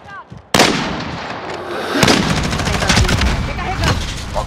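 Rapid gunfire in a multiplayer shooter video game, a sudden loud burst followed by sustained shooting and crackling impacts, close and dense, with a brief voice at the start.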